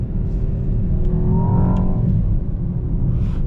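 Low, steady V8 rumble inside the cabin of a Mercedes S63 AMG E-Performance hybrid, partly synthesized engine sound played through the speakers, with a brief rising tone partway through; loud and continuous, no talking.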